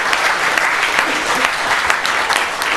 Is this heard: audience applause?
yes